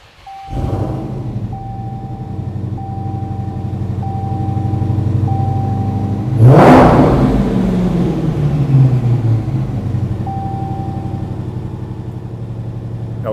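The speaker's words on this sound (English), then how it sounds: "You get the little bit of supercharger whine out of it" A 1,000-horsepower supercharged Dodge Hellcat cranks and fires up loudly, then settles into a rumbling idle with a faint supercharger whine. The revs surge again midway before dropping back to idle, with a few short beeps in the background.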